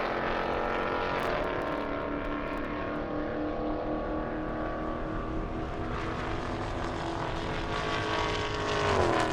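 Camaro and Challenger cars drag racing down an airstrip at an airstrip-attack event, a loud, sustained engine roar with shifting harmonic tones that holds steady and swells slightly at the end, with no talking.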